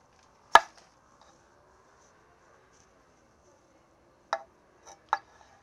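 A knife cuts the stem off a jalapeno on a cutting board: one sharp chop, a pause, then two lighter cuts close together.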